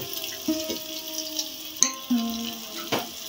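Food fries in a pan with a moderate sizzle, punctuated by a few metallic clanks and scrapes of a spatula stirring it.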